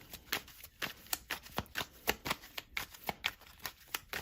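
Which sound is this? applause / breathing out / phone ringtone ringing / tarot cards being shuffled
tarot cards being shuffled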